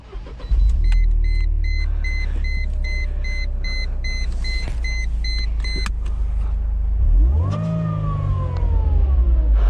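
A 1998 Mercedes-Benz SLK 230 starts up at night, with electronic chimes and beeps, then the engine cranks, catches and settles into a steady, close idle rumble, briefly rising in a rev near the end.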